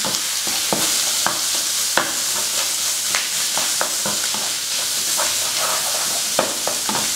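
Chopped prawns sizzle and spit in a hot pan over high heat, with a continuous hissing fry broken by repeated scrapes and clatters as they are stirred.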